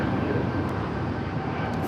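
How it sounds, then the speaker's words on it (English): An American Airlines Boeing 787-9 Dreamliner bound for Chicago O'Hare takes off from runway 25 right at Los Angeles International Airport, its engines a loud, steady broadband roar with no talking. "Got that American 787-9 Dreamliner flight heading to Chicago O'Hare as our next takeoff."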